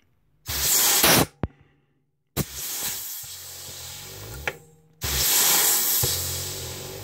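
Compressed air hissing loudly in three long blasts while setting the rear servo on a 1945 Hydramatic transmission, with short sharp pops between, close and steady without speech.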